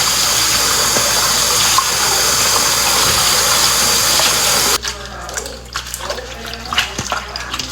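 Running water washes freshly picked dandelion greens from a front lawn, a steady close rush that cuts off partway, leaving softer splashes and drips from the handled leaves.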